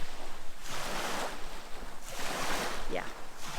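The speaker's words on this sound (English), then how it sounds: "The spot can be wavy and windy." Surf washes in broad surges on a Greek beach over a steady rush of wind buffeting the microphone, with a faint voice briefly audible beneath.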